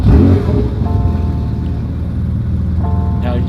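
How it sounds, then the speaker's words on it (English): A Porsche 992 GT3 RS with a titanium exhaust idles with a deep, steady rumble, loud and close, with a couple of light revs. "I just want to show you how cool my new car sounds"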